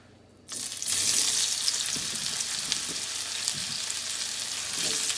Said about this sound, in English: So we're going to just fry this for about 10-12 minutes until it's crisp